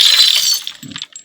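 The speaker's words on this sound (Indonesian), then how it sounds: "yang tadi gelas pecah" A single glass shatters as a sound effect, with a sharp bright crash followed by a few scattered tinkling fragments that quickly fade.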